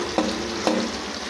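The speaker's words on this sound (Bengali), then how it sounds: "পেঁয়াজটা একটু নড়াচড়া দিতে হবে।" Onions fry and sizzle in a pan while being stirred, a steady close hiss broken by two sharp scraping stirs a moment apart.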